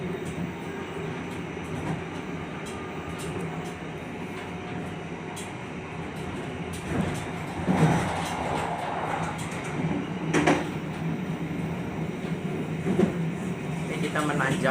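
The Ijen Ekspress passenger train from Malang to Ketapang rolls uphill with a steady low rumble and rattling carriages, occasional louder clanks and squeaks over the continuous running noise.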